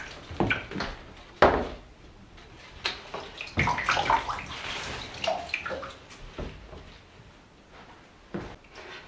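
Water running and gurgling in a drain as the plug is pulled, with irregular splashes, knocks and handling sounds close by, no talking.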